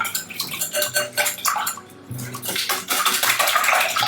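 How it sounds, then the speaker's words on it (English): A wire whisk beats eggs, salt and sugar in a bowl, giving rapid, rhythmic clinking and sloshing strokes, close and loud. "Just using my wire whisk to make sure that it's smooth and that sugar is absorbed."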